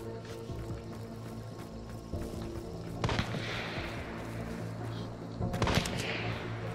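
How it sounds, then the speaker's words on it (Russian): Gunshots ring out in the video game Hunt: Showdown, with two sharp, moderately distant reports about two and a half seconds apart over a low ambient rumble. "Вы же там стреляли с кем-то"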